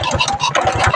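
A Honda Supra Fit motorcycle engine driving an air compressor starts up and runs close by, a loud, steady, chugging mid-pitched engine rumble with rapid regular pulses.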